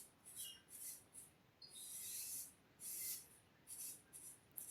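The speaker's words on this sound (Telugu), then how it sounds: "స్ప్రే కొడుతున్నాము మా ఫ్రెండ్ పైన." Party spray can sprayed onto a friend at a birthday celebration, giving about seven short, faint hissing bursts, one longer than the rest.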